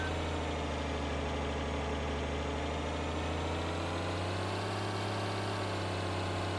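A tractor engine in Farming Simulator 2013 drones at a steady idle, a constant low hum with a rumbling undertone that rises slightly partway through, heard alone without talk.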